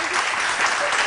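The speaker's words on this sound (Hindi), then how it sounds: "तालियां होनी चाहिए" A short burst of dense clapping from an interview audience, steady and loud throughout.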